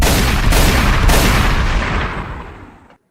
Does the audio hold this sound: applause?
no